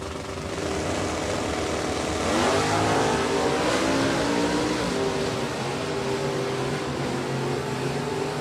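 Super Stock drag cars, a Camaro with an automatic and a 2013 Mustang, launch down the strip together. A loud, close engine roar climbs steadily in pitch as they rev hard and accelerate, and nobody talks over it.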